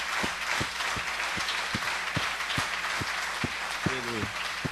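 A church congregation applauds in a steady, dense wash of clapping, with low rhythmic thumps beating through it and a brief tonal swell near the end.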